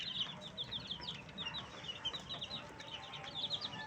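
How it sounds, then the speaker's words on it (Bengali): Brahma chicken chicks with feathered feet peep in a busy, overlapping chatter of high chirps over a steady low background rumble. "এখানে একটা ব্রাহ্মা মুরগির বাচ্চা রয়েছে।"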